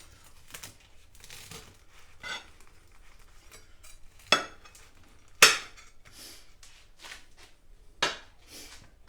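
Knife cutting a beef and onion steak pie from the butcher's in half, crisp crackles and crunches of pastry with scattered sharp clicks of cutlery on a plate, close and intermittent.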